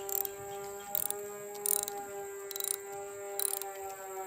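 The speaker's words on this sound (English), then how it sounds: "We're gonna go ahead and we're gonna start tightening up these nuts." A ratchet clicks in quick repeated bursts as it tightens nuts on a root cellar roof, close and fairly quiet, under a steady tonal hum.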